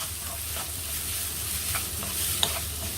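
Chopped onions sauté in a pan for a Kerala-style mutton curry, giving a soft, steady sizzle with a few light stirring scrapes, close and moderately quiet, no voices.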